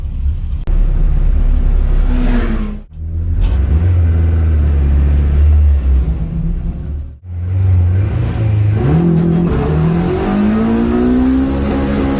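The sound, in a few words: car driving out for first timed autocross run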